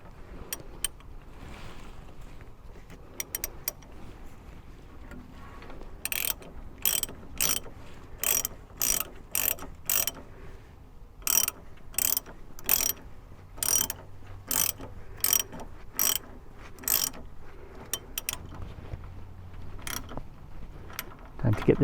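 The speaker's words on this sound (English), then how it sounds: "Now we're going to tighten it up. All right, let's tighten this up." A ratchet tightening the stabilizer link bolt on a 2009 Ford Ranger's front right suspension, a run of quick sharp clicking bursts in a steady rhythm, close and fairly loud after a quieter start.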